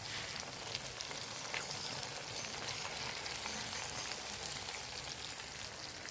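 Varaal fish frying in hot oil, a steady dense sizzle with faint crackles running evenly throughout, close and moderately loud with no talk.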